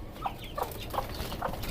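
A hen in a rooftop cage farm on a five-storey building gives several short, close clucks at a loose rhythm over a low background hum, with no talking.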